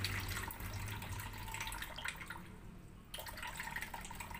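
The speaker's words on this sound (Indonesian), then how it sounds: "ini saya buang airnya dulu sedikit karena serbuknya ada di bawah" Water pours off settled black lead dioxide powder in a container, a steady close splashing and trickling stream running continuously, briefly easing before resuming.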